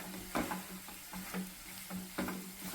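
Aloo paratha potato stuffing with mustard seeds and onion stirred in a pan, giving faint, rhythmic scraping strokes about every half second over a low steady sizzle, with no voices.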